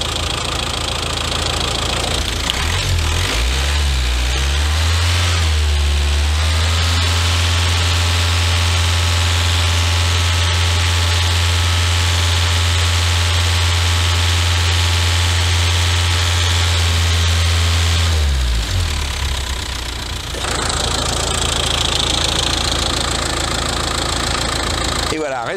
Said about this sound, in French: augmenter le moteur à 2500 tours minute et le garder 5 secondes